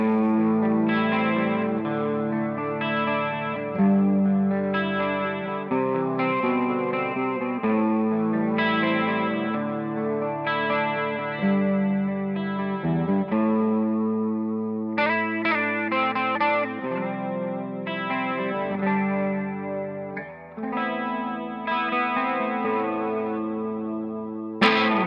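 An electric guitar played through a Mooer 015 Brown Sound preamp pedal rings out in a continuous run of distorted, chorus-tinged chords and riffs with echoing sustain, loud and alone for about 25 seconds.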